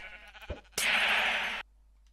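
A flock of sheep in Minecraft gives a brief tick, then a loud dense burst of overlapping bleats lasting under a second before cutting off abruptly to quiet.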